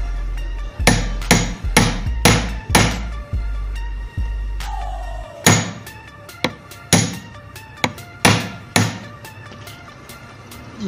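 A hammer drives a bearing cup into place on the armature of a small angle grinder under repair, a series of sharp metallic strikes in uneven clusters, loud and close, with no talk.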